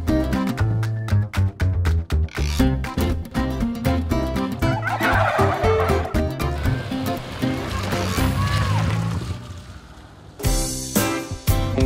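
Farm turkeys on a Lincolnshire farm gobble loudly and repeatedly in dense, overlapping rapid bursts, a noisy flock close by with a short lull before a final burst.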